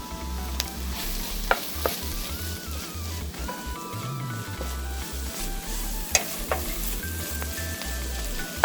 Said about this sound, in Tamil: இப்போ நம்ம அடுத்து பூண்டு இஞ்சி பேஸ்ட்டு கொஞ்சம் போடுறோம்.